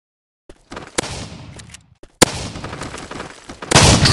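Shotgun blasts in the mobile shooter game MaskGun, several sharp gunshots in quick succession with a burst of heavier fire at the end, loud and close.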